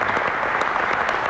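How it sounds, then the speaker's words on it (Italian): A brief burst of dense audience applause fills a hall during an address to sports club directors and coaches, recognizing the young volunteers; continuous, fairly loud clapping with no voices over it. "vi posso chiedere un applauso anche per tutti i ragazzi"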